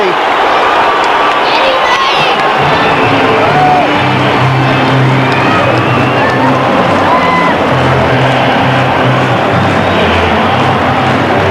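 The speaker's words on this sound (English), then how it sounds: "Crowd hanging over the top of the race as out go Collingwood onto the MCG." Large stadium crowd at the MCG roaring and cheering as Collingwood run out for the 2002 AFL season opener against Richmond, a loud dense wall of crowd noise with voices and horns throughout.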